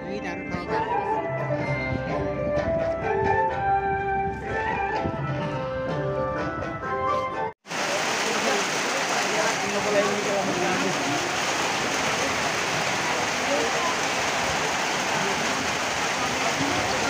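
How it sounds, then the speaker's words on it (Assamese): Heavy rain mixed with hail pours down outside a temple, a loud dense roaring hiss that follows a stretch of music. "বৰষুণ আহিলেই নহয়, লগতে শিল বৰষুণো পৰিছে"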